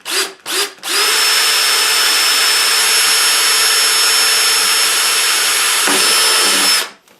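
Power drill driving screws into a metal dryer vent exhaust pipe, with two short bursts and then a long, loud, steady high whine before it winds down.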